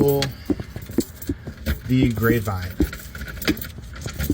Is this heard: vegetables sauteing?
no